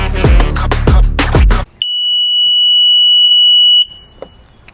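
Alarm from a 2011 Sea-Doo RXT set off by a disconnected coolant temperature sensor with the key on: a loud, steady high-pitched tone of about two seconds, following a few seconds of rough engine cranking and sputter, then cutting off.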